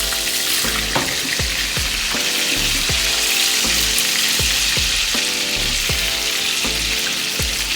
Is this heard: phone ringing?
no